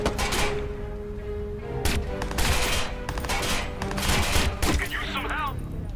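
Gunfire in the video game Watch Dogs comes in dense, loud bursts and rapid shot volleys close up, with brief pauses between salvos and a steady layer of game background noise.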